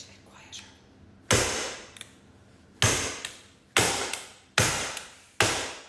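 A cake tin packed with Christmas cake mixture is dropped onto a granite counter five times, each drop a sharp, loud bang with a short decaying rattle, spaced about a second apart.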